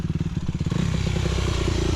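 Motorcycle engine idling with a rapid pulsing thump, then rising into a steadier, faster revving drone, close and loud, recorded in the Lo Campano neighbourhood of Cartagena, Spain.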